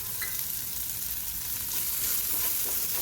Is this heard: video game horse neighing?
no